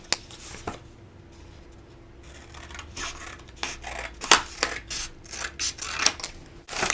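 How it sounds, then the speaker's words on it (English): Scissors slice through wrapping paper in quick, close snips, cutting two strips, with rustling of the sheet between the cuts. "And then I'm going to cut off 2 strips."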